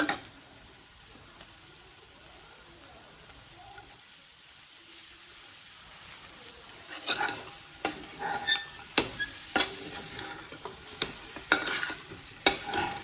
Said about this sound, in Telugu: ఇందులో కొత్తిమీర వేసి వేయించుకోవాలి.